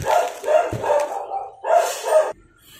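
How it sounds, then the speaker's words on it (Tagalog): A dog barks in several loud, close bursts, followed by quieter whimpering, heard alone without talk in the middle of a dog shampoo unboxing indoors. "Tumigil muna tayo sandali at mayroong tumatahol na aso eh."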